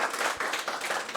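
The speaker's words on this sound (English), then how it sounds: "Can everyone give a big round of applause to Eliza?" Brief burst of audience applause after a talk on threatened species and cities, a dense patter of many hands clapping at moderate level for about a second.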